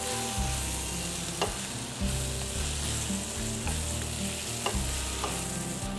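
Grated coconut being stirred in a hot pan after the heat is switched off, a continuous sizzle with repeated scraping strokes and light knocks of the spoon, close and unaccompanied by talk.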